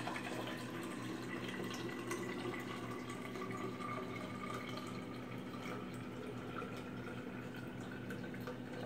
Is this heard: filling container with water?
yes